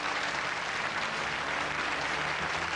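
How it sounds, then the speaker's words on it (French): Steady applause from a group of Miss contestants greeting Miss Bretagne at a beauty pageant, a dense, even patter of clapping that continues without break. "Applaudie par toutes les Miss."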